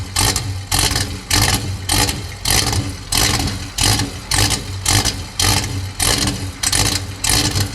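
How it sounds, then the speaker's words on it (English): A Pontiac LeMans 455 V8 with an ignition fault runs with a loud, rough, lumpy rhythm, regular throbbing pulses repeating about twice a second, close up and alone. "Car's still running."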